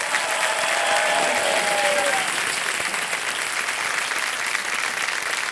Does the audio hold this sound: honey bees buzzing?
no